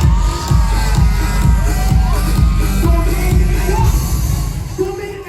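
A crowd at a rally for PRRD supporters claps and shouts in a sustained, dense roar. The mix of voices and applause stays loud and close throughout.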